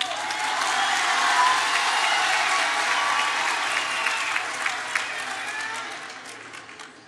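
A large audience at a Women's Day speech bursts into sustained applause, loud dense clapping with faint cheering that holds steady and then begins to thin.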